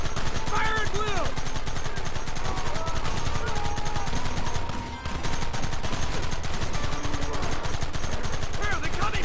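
Relentless gunfire in Red Dead Redemption, dense rapid shots crackling almost without pause, briefly dipping before resuming, with shouted voices mixed in.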